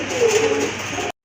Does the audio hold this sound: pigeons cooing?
yes